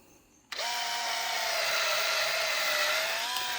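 A power drill spins up abruptly with a sharp start, then whines steadily and loudly while cleaning the lifter ports of a 5.3L LS engine block being prepared for boost.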